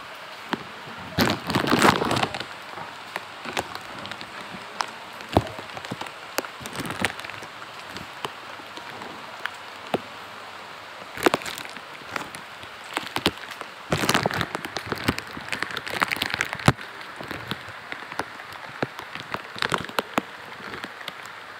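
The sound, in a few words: rain falling outside while walking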